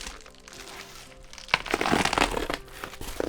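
A utility knife slicing into product packaging for an iPhone 4 frame, with close crinkling, crackling scrapes that start soft and turn louder and busier in the second half.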